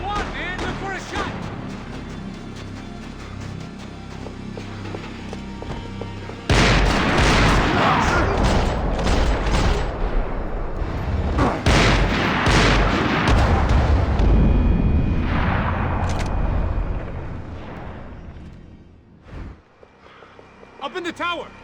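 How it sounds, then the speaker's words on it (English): Heavy video-game gunfire lays down covering fire in a dense barrage of overlapping shots and booms, loud and continuous for most of the stretch before thinning near the end, with voices talking over it. "Laying down fire!"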